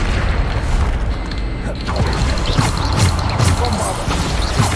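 Bombarda spell blasts in Hogwarts Legacy, loud booming impacts and crackling bursts layered over continuous battle noise, with spell effects repeating every second or so.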